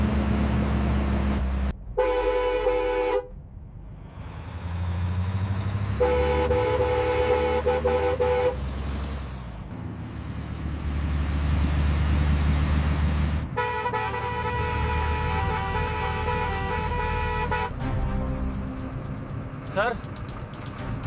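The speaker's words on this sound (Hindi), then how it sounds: "हॉर्न दो" A car horn honks on the road behind a slow vehicle, giving several long, loud blasts of varying length over the engine rumble and road noise inside the moving car.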